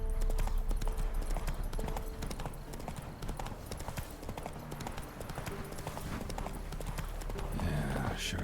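Roach the horse gallops in The Witcher 3: Wild Hunt, a fast, dense run of hoof clops that keeps up throughout, loud and close, with faint game ambience behind it.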